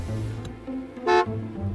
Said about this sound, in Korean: 빵빵거리나?